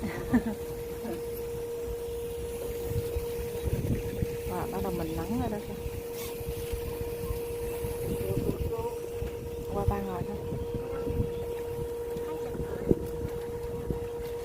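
A steady boat engine drone hums throughout on a river in Montreal, with wind buffeting and people talking over it.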